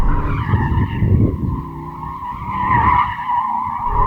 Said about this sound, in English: I can just feel the tyres just chewing away at the tarmac. Oh, now we've got some understeer.